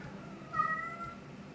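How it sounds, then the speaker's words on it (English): House cats chasing each other indoors, with one clear mid-pitched meow rising briefly out of soft background noise and then fading. "My cats are chasing each other. That's what you hear in the background."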